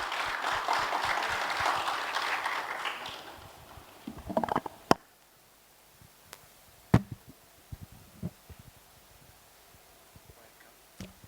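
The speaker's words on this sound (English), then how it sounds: "Please, a round of applause." A conference audience at a nuclear business session gives a round of applause for an incoming speaker. The dense clapping lasts about four seconds, then dies away into a quiet room with a few scattered knocks and shuffles.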